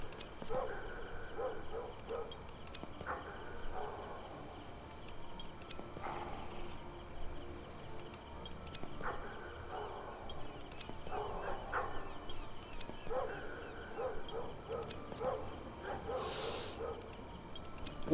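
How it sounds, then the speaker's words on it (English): Barking from feral dogs in The Myth Seekers 2 video game, repeated bursts spread across the scene at mid distance over a continuous ambient hum, with a faint insect-like chirping in the background. "They might just be feral dogs"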